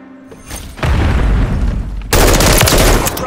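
Gunfire in the mobile shooter game Call of Duty Warzone Mobile, with loud booming shots and dense bursts of rapid fire that grow heavier partway through. No voices are heard.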